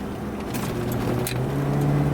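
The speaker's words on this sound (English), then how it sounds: "you can hear it downshift the way it's supposed to there" A 1976 Cadillac Seville with an automatic transmission downshifts on the move, its engine hum rising slightly under steady road noise.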